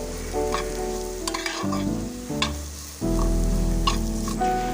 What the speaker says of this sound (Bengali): তো এবার সব মশলাটা ভালোভাবে কষিয়ে নেব।